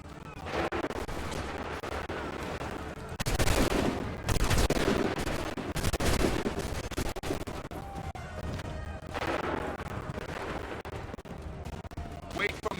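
Musket volleys in Assassin's Creed 3 crack out in loud clustered bursts, several heavy rounds of gunfire separated by quieter battlefield noise and intermittent shouted commands.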